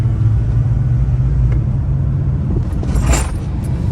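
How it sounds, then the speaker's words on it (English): Jeep WJ Grand Cherokee with a track bar taking a speed bump at full speed: a loud, steady road rumble inside the cabin, then a brief thump and rattle near the end. "we're gonna hit the speed bump full speed"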